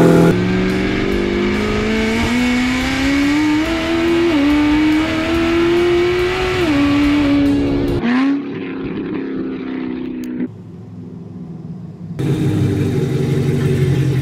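A Fiat Multipla tuned to 1294 hp accelerates hard in a straight line, its engine note climbing steadily and loudly through the revs before cutting off abruptly, then dropping to a quieter rumble and settling back to a steady drone.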